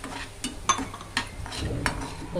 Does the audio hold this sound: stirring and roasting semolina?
yes